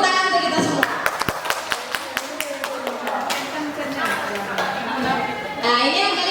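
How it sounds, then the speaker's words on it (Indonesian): Audience in a teachers' training session clapping, a run of sharp individual claps spread over several seconds, mixed with speech and background chatter. "Beri tepuk tangan untuk kita semua."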